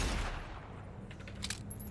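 A weapon firing in the video game Cyberpunk, a dense burst of muffled shots at the start followed by a fading rumble and a few faint metallic clinks near the end.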